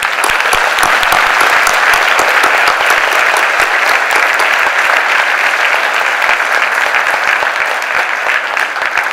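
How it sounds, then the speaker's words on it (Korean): Loud, sustained applause from a large church congregation, dense rapid clapping holding steady throughout. "우리 하나님께 영광의 박수를 드리도록 하겠습니다."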